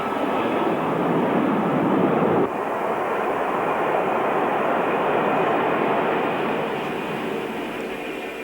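A Lockheed L-1011 TriStar jet airliner with three Rolls-Royce RB211 engines roars steadily with a dense, loud broadband rumble and whine that holds for several seconds, easing slightly toward the end.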